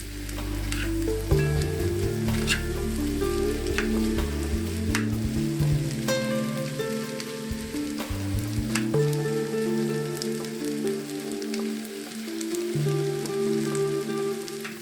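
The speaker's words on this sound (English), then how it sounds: "The shrimp have been frying for about 2 minutes, so time to stir them into the rice." Shrimp fry in hot oil before being stirred into garlic-seasoned fried rice, giving a steady, loud sizzle that runs the whole time alongside sustained tonal background sounds.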